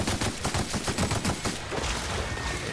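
Rapid gunfire from The Outer Worlds rattles in a quick steady stream of shots for about a second and a half, then gives way to a dense roar of noise.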